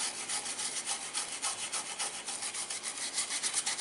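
A toothbrush soaked in isopropyl alcohol scrubs a circuit board and its surface-mount chip, making a steady, close, hissing rub in quick back-and-forth strokes that continue without a break and with no voices.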